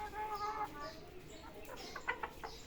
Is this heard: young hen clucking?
yes